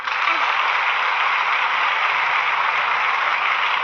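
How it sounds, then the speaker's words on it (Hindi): A dense wash of clapping from a crowd, steady and even throughout with no voices standing out. "तो उनके लिए एक जोरदार ताली दीजिए।"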